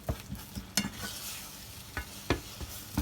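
Eggs and precooked sausages frying in a skillet while being stirred as an omelette forms at a motorcycle campsite, with a soft sizzle broken by several scraping utensil knocks against the pan.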